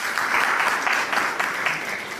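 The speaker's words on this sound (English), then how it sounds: "Another round of applause." Applause from an audience at a youth forum, a steady wash of many hands with rhythmic surges, fairly close and even in level.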